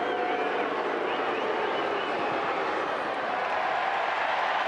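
A large stadium crowd at an AFL football match between Fremantle and GWS roars in a broad, sustained, distant wash of cheering that swells slightly toward the end.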